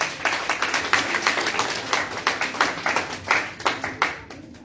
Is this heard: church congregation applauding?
yes